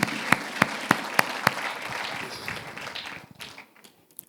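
A church congregation at a wedding service claps for God, opening with several loud, sharp, evenly spaced claps that give way to a busier patter of applause before it thins out and fades.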